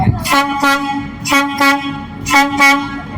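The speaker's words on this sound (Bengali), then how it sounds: "একটা ট্রেন ঢুকছে কি একটা সাউন্ড দিল রে ভাই" A train arriving at a station sounds a loud, close horn in several repeated blasts, a pair of toots recurring in rhythm over a low rumble.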